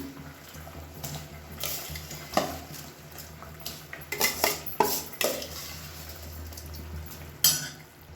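Soaked rice is stirred into boiling water in a pot for mushroom biryani, with a metal spoon clinking and scraping against the pot in irregular bursts close by.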